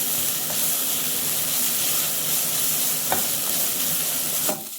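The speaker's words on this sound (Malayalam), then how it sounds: "എൻ്റെ ഉള്ളിയെല്ലാം ഇപ്പം വഴണ്ട് നല്ലോണമായി" Chopped onions sautéing in a pan for a traditional Kerala white chickpea curry, a steady loud sizzle of frying with faint scraping stirs throughout and a couple of brief clinks.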